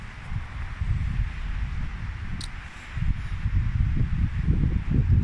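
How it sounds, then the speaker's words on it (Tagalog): Strong wind buffets the microphone in heavy, low rumbling gusts that surge again partway through, with faint rustling underneath. "ang lakas ng hangin"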